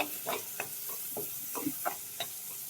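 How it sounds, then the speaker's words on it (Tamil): Chopped onion and curry leaves sautéing in a pan for okra kara kuzhambu, a soft steady sizzle broken by a series of quick scraping stirs of a spoon against the pan, close and fairly quiet with no talk. "அது நல்லா ப்ரௌனிஷ் ஆகிற வரைக்கும் வதக்கி விட்டுக்கோங்க"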